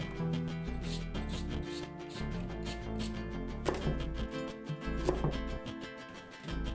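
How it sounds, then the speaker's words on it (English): A knife chops vegetables coarsely into rough cubes on a board, making scraping, rubbing strokes and a few sharper thuds beneath a layer of music. "I just cut them coarsely like this"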